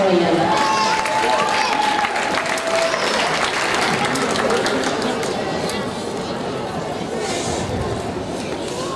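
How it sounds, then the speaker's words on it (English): Audience applause at a Chalmette Elementary School kindergarten recognition day, sustained clapping for about nine seconds with crowd chatter and voices mixed in, easing slightly toward the end. "Let's give a big round of applause."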